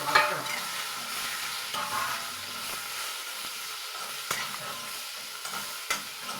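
Radish tossed with roasted fenugreek powder sautéing in a pan, a close sizzling hiss with intermittent stirring scrapes and clicks of the spatula, fading slightly between stirs, with no voices.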